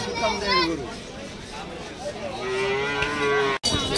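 Cattle low in long, drawn-out moos at close range, over the chatter of a busy crowd with people talking nearby at an outdoor cattle market in Bangladesh before Qurbani Eid.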